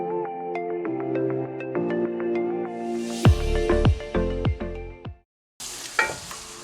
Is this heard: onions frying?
yes